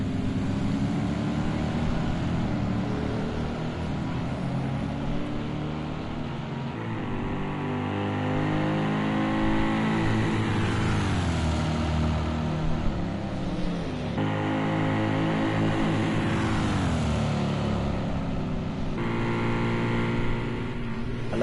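Race cars circle a racetrack, their engines holding a steady, pitched drone as several cars pass by in turn, their tones sweeping up and down across a long, continuous stretch of sound.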